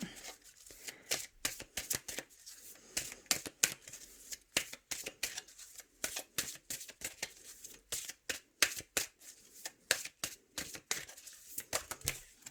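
Oracle cards are shuffled and cut by hand in rapid, crisp riffling bursts, close up and repeated in an irregular rhythm for several seconds with no talking.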